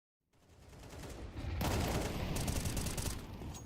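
AK rifle fire in Counter-Strike during a Thunderpick World Championship qualifier match between TNL and Impe, a sudden dense burst of rapid shots that fills the moment after brief silence.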